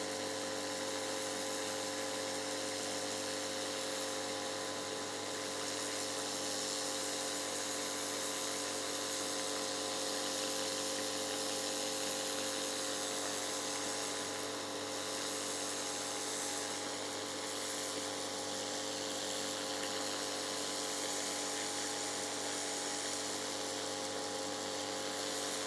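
A pressure washer running with a turbo head nozzle, a loud continuous hiss and whine with a steady motor hum underneath, unbroken and close throughout.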